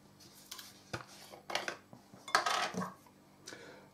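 A metal dessert spoon mixes prawn cocktail sauce of salad cream or mayonnaise and tomato ketchup in a dish, with a series of close, irregular clinks and scrapes against the bowl.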